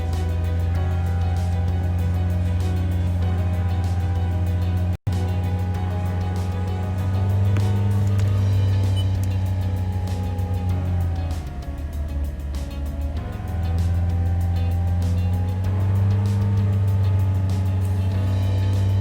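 A car engine held steady at 3000 rpm while fitting a voltage stabilizer, a loud continuous drone with a constant low hum that dips briefly midway and then settles back, with no voices.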